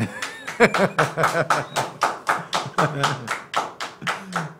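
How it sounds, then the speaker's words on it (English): Real audience clapping during a health talk, heard as a steady run of sharp, distinct claps from a smallish group, fairly close, with a little laughter mixed in. "Those are real clapping."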